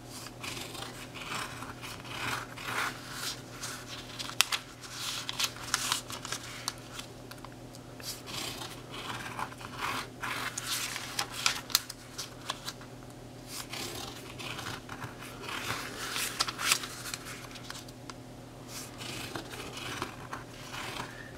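Paper is folded and creased for an origami collapsible box, with close, crisp crackles, rustles and sharp snaps scattered irregularly throughout.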